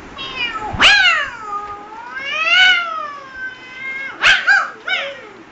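A person imitates two cats fighting, with rising and falling yowls and sharp caterwauling bursts, loud and close with no other talk.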